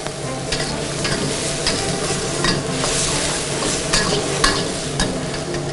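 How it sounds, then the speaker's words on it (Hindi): Chicken stock goes into a hot wok of fried rice, with steady loud sizzling and frying plus scraping, stirring taps from a spatula running throughout. "इस स्टेज पे चिकन स्टॉक डालेंगे।"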